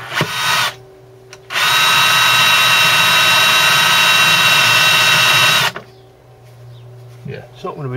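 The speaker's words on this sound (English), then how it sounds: "I'm going to centre drill it now" A loud drill whines steadily for about four seconds while centre drilling a metal bracket for a Land Rover Series throttle cable, with a motor spinning up briefly before it, then a quieter hum after it stops.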